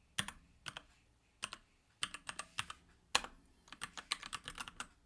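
Rapid bursts of keystrokes on a computer keyboard while tinkering with Python code, clustered clicks with short pauses between runs, close and fairly quiet with no talking.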